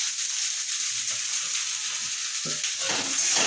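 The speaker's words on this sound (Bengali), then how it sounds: "এই সমস্ত ভেজে রাখা সবজিগুলো আমি এর মধ্যে দিয়ে দিচ্ছি" Fried vegetables tossed into chow mein in a hot pan give a steady sizzle, with light stirring scrapes and a clunk of the utensil near the end.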